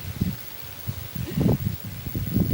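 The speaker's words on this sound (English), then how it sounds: "That wind is kicking." Gusty wind blows outdoors on a warm day in a garden during a sweet potato harvest, rising and falling in rushing, rustling surges close to the microphone.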